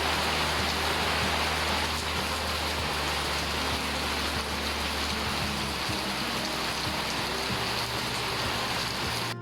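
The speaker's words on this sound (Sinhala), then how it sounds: "එළිය වැටුණ විතරයි ඔන්න හොඳටම වහින්න ගත්තා" Heavy rain pours down steadily at dawn, a dense, continuous hiss of drops drumming on surfaces with no break or voices.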